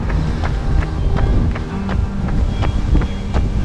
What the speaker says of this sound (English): it's a cold and windy day